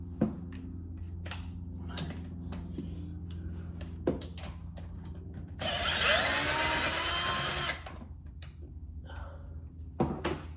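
A bolt is worked off a Kawasaki KX65 dirt bike engine, with scattered metallic clicks and knocks of tools, then a couple of seconds of buzzing power-tool whirring close by over a low background hum.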